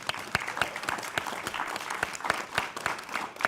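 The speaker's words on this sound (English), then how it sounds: "let's give her a nice round of applause" A small crowd at an indoor panel event gives a modest round of applause, individual claps clearly separated and fairly quiet, sustained evenly for a few seconds without talk.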